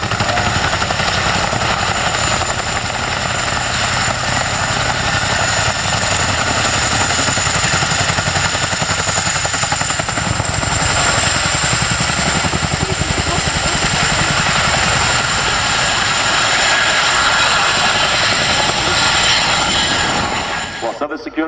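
An RAF Chinook helicopter displays at the RAF Cosford air show, its loud, steady rotor and engine roar running continuously throughout, with speech heard over it.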